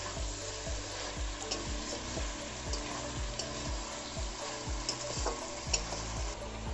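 Potatoes fry in hot oil in a pan for a fish curry and are stirred in a steady rhythm of scraping strokes over a constant soft sizzle, close and fairly quiet.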